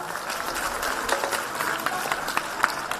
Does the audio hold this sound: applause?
yes